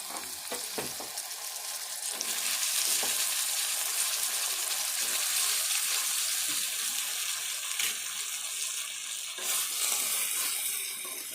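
Brinjal pieces go into a pan of already fried onions and green chillies, and a steady, close sizzle of frying follows, broken by occasional spoon clatters and scrapes, with some faint watery sounds in the background.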